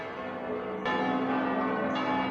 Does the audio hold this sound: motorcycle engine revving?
no